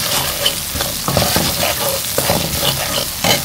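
Salt, turmeric, chilli powder and coriander powder frying in a pan on a low flame, giving a steady sizzle with scraping stir strokes, close and fairly loud, with no talking.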